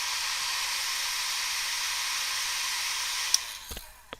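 A hair dryer blows a steady, loud, close whoosh to dry a watercolor wash on paper, then cuts off near the end, leaving a few small clicks and knocks.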